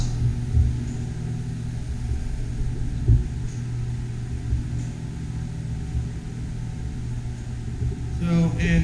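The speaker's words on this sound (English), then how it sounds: "You can hear the heater running above us." A heater in a two-car garage runs with a constant low mechanical hum and drone that fills the space steadily, with a few brief knocks and a faint stir near the end.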